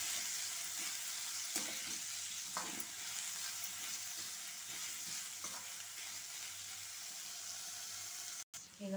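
Tempering spices crackle and sizzle in hot oil for a broad bean curry, a continuous close frying hiss punctuated by scattered pops and the scrape of stirring.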